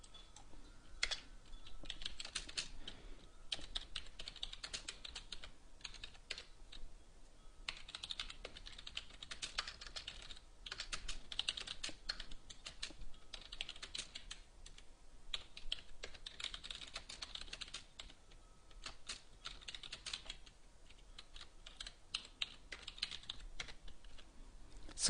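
Someone types on a computer keyboard in a quiet room while editing a code file, making soft, continuous key clatter with short pauses between runs.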